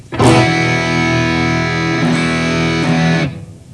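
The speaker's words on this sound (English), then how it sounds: "And then to get it distorted, crank up that first preamp" Distorted electric guitar through an amp with the first preamp gain cranked up, one loud sustained rock chord struck, re-picked about midway, then cut off cleanly near the end.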